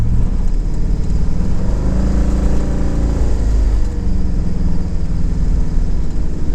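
A third-generation Lexus LS on a test drive, the engine note dropping and climbing as the automatic transmission downshifts, a steady loud cabin drone with a brief dip in the middle.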